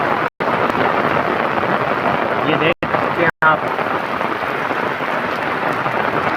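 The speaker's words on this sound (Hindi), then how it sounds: "बारिश बहुत ज़्यादा स्टार्ट हो चुकी है।" Heavy rain pours steadily during a flood in Cormons, Italy, a dense continuous hiss close by, with someone speaking briefly over it and a few short gaps in the sound.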